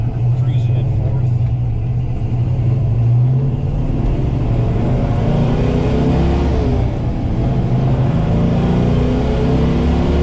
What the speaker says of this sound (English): I almost find it a little droney though when you get up to speed in 4th gear